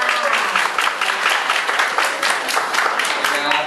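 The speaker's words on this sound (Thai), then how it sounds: "ขอเสียงปรบมือให้กับร้อยเอกหญิงแก้วนาชาญกระโทกด้วยค่ะ" Audience applause for Captain Kaewna Chankrathok at a hospital gathering, a crowd of hands clapping in a fast, fairly loud patter that continues steadily, with some individual claps standing out.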